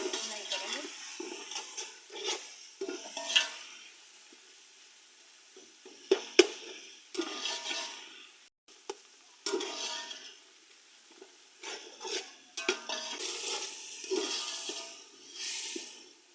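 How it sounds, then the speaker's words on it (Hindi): Masala with red chilli powder and a splash of water is stir-fried in a pan for chana pulao, giving faint, irregular scraping and sizzling bursts from stirring, with a voice talking over it. "पानी का छींटा लगाकर हम इसे अच्छी तरह से भुनाई करेंगे।"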